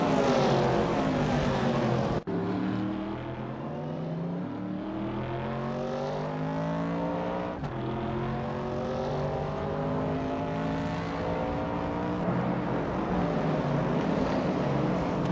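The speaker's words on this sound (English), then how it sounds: "is cruising in a 1972 BMW 2800 CS," Classic 1972 BMW 2800 CS racing in a video game, its engine holding a loud, steady drone with harmonics rising and falling through gear changes, continuous and close with no talk.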